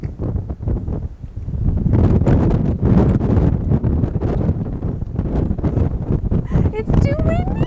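Strong wind on an outdoor cruise ship deck: heavy gusts buffet the microphone with a rough, rumbling roar while people talk over it throughout.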